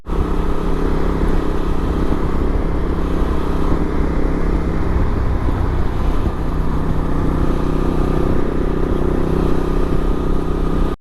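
A Honda NT1100 motorcycle ridden on an autumn day, its engine a steady, loud drone with constant rumble and wind roar, holding an even cruising pace throughout with no talking.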